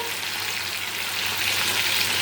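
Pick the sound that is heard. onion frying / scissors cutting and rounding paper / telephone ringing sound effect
onion frying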